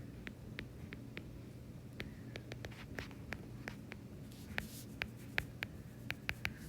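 Pen or chalk writing out a geometric series equation by hand, a quiet run of crisp taps and short scratchy strokes that come in irregular bursts and grow slightly sharper toward the end, with no talking.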